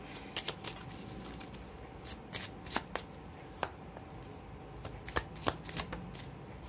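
Oracle cards being shuffled by hand, a steady papery riffle broken by sharp slaps and snaps at irregular moments, close and fairly quiet with a soft room hiss underneath.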